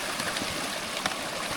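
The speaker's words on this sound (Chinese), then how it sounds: "一个很小的小溪" A small mountain stream trickles steadily in a damp forest along a hiking trail in the Alps, a soft continuous wash of flowing water heard alone without any voices.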